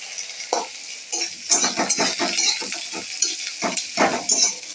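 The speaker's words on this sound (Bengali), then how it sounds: "পেঁয়াজটা লাল করে ভেজে দিতে হবে।" Onions fry in a pan until browned after cumin seeds are added, a steady close sizzle broken by frequent scraping stirs of a utensil, with no voices.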